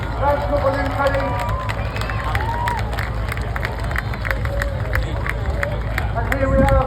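Outdoor crowd at Blackpool Airshow cheering and clapping for a Red Devils parachutist landing, a broad steady wash of voices, with an announcer speaking over it.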